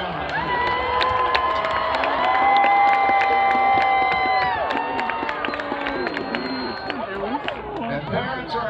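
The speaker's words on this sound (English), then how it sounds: "Let's have a big round of applause for the band directors and all the staff members here." A crowd at a high-school band competition awards ceremony cheers, shouts and claps for the band directors and staff, a dense, continuous roar with voices and music tones running through it.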